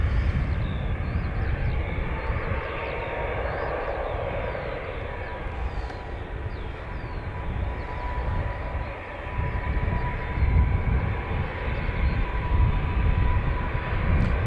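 Qatar Airways airliner landing at Dublin Airport, a distant jet engine roar building and fading over the full stretch, heard outdoors amid wind and broadband rumble.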